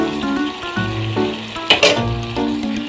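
Cubed, lightly pre-fried eggplant tumbles into a pan of ground meat, giving a loud sizzle with a sharp burst as it lands, then stirring scrapes; no voices.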